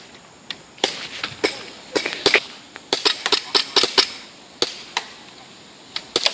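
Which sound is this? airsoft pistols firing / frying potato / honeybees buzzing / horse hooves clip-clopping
airsoft pistols firing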